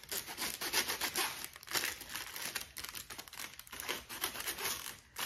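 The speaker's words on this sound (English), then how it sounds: "by opening and closing the zipper, it helps to get that wax more inside the teeth" A waxed zipper on a leather Coach coin pouch being worked open and closed, giving continuous close, dry crinkling and rasping zip strokes in an uneven back-and-forth rhythm with no talking.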